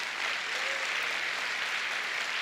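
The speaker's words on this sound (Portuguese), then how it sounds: "pode aplaudir o Senhor" A church congregation applauds during a spiritual battle service, a dense, continuous wash of clapping at even loudness from start to finish, with no voices over it.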